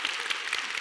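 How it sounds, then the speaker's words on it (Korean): Brief, even burst of audience clapping at a Korean lecture, dense and steady for under a second with no voices over it. "이럴 때 한번 박수 한번 주세요"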